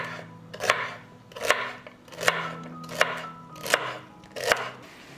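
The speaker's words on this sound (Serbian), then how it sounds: "iseckat ću celer." Celery is chopped on a board in an even rhythm of six firm knife strokes, each a crisp thud roughly every three-quarters of a second. No one speaks.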